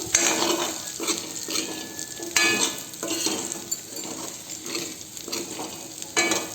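Fish and potatoes being stirred and fried in a pan, with a continuous sizzle under repeated scraping and clattering of a utensil against the pan, moderately loud and close.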